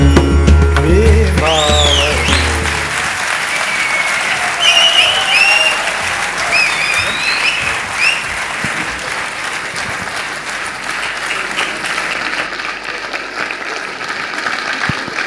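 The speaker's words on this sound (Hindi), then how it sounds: "सभी लोगों के लिए जोरदार तालियां, इन सभी कलाकारों के लिए।" A theatre audience applauds the performers after a play, loud continuous clapping from a full house with a few cheers, following a brief snatch of singing at the start.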